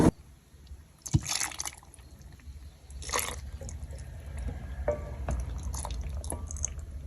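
Hot loquat syrup poured into a bottle: a soft liquid trickle and drip runs steadily under a low background hum, with a few brief clinks and splashes.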